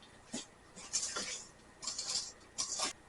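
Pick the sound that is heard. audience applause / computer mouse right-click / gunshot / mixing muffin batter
mixing muffin batter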